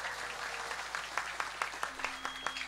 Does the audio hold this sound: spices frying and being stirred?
no